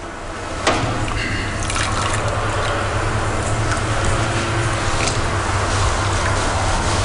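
Water poured over silk cocoons for boiling fills with a steady splashing, trickling rush. A sharp onset comes just after the start, then a continuous, fairly loud flow with faint drips on top.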